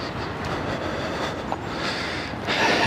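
A metro train on Amsterdam's North-South line rumbles steadily nearby, with rolling wheel noise, a faint squeal and a brief rise in loudness near the end, no voices heard.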